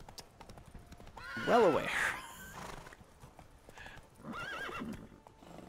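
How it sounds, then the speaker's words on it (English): Horse hooves clip-clop in The Witcher 3 alongside a horse's whinny, briefly louder near the middle and again toward the end, with someone talking over the game sounds. "Assuming I can find where my fucking horse just spawned."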